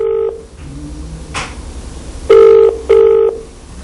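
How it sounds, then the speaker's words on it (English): A mobile phone rings unanswered, with two loud electronic ring bursts repeating in quick succession after a faint earlier tone, the line buzzing between rings with no one picking up. "Seems that the phone's just ringing and ringing on his mobile."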